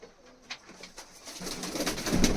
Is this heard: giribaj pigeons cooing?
yes